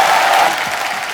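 Studio audience of a comedy talk show applauding to welcome guests, a dense wash of steady clapping from a crowd at moderate loudness, with no clear voices over it.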